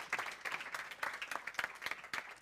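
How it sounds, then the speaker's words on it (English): Faint, sparse clapping from a small audience at a school theatre presentation, with separate claps landing in a loose, uneven rhythm. "Let's give them a big round of applause."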